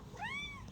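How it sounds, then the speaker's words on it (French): A house cat gives one clear, rising-then-falling meow, close by and moderately loud, with no talking over it. "Oh, il y a le chat, il y a Sarah."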